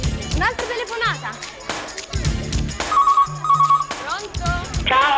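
Telephone rings for an incoming call on an Italian TV game show, two short ringing bursts heard under lively studio chatter, music and crowd noise.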